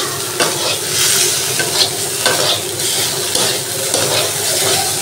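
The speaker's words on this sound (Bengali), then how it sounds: "এখানে ঢেঁড়স আর আলুটা ভাজছি" Okra and potato pieces frying in a pan, a steady loud sizzle broken by repeated scraping and stirring strokes that come close and clear throughout.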